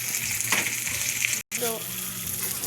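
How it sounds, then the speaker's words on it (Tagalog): Squid balls and kikiam sizzle steadily in hot oil close up, with a soft stirring scrape and a moment of near silence partway through. "Lagay ko na yung squid ball saka kikiam guys."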